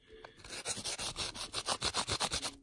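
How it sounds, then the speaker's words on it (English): A nail filing board sands the cut edge of a ring made from a silver Texas quarter coin, giving about a dozen quick, close, evenly paced rasping back-and-forth strokes. "I use these nail filing boards, and I like to start with like the second roughest and then move to the smoothest."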